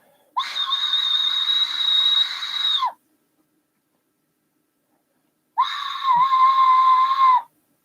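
Homemade whistle blown hard in two long, loud shrill blasts, the first lasting about two and a half seconds and the second about two seconds, separated by a silent gap.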